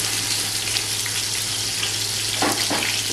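Chopped onions dropped into hot reused oil in a pot, giving a steady loud bubbling sizzle throughout with a couple of brief rustling bursts near the end; no speech.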